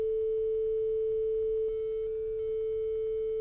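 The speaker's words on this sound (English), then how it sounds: "you're starting to hear the distortion and the noise" A steady, pure sine wave tone hums alone at an even level, then picks up a faint buzzy distortion and hiss partway through as it is quantized to a reduced bit depth of around 7 bits.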